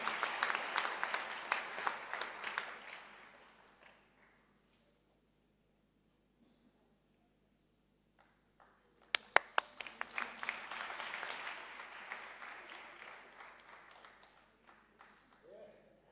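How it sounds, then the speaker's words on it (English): Audience applause at a bicycle distribution event overseen by a deputy minister of transport, in two bursts of steady clapping with a quiet gap between, moderately near. "Another applause, just to give him self-confidence."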